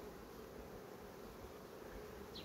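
Bees swarming around honey given to them at a hive, a steady, continuous insect buzz filling the short clip at low volume with no voices.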